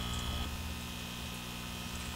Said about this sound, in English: Just excuse the sound of the air pump.